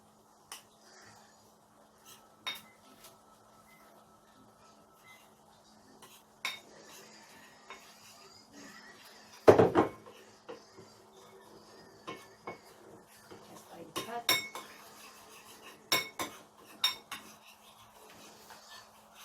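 Spoon stirring cocoa in a pot for champorado, with scattered metallic clinks and scrapes against the pot, one sharper knock midway and quicker clinks toward the end.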